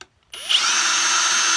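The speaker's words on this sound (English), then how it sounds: "you can get like a tiny little drill" A tiny drill bores holes in a cigar box, whining up to speed after a brief silence and then holding a steady high-pitched buzz close by.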